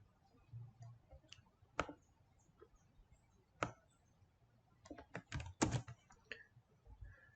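Computer keyboard keys pressed while running Python code, sparse irregular clicks and taps, a few isolated strokes then a quicker cluster of presses, close and fairly quiet with no talking.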